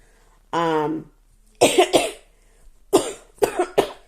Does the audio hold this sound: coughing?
yes